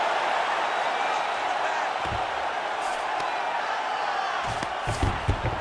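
A roaring arena crowd from EA Sports UFC 5 cheers steadily throughout a mixed martial arts bout between Payton Talbott and Frankie Edgar, with a few louder thumps and swells near the end.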